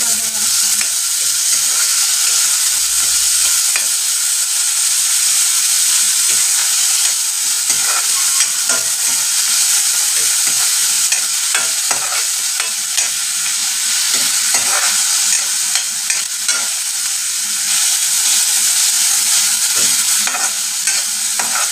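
Onions sautéing in a pan, a loud, close, continuous sizzle with faint stirring crackles throughout, no voices.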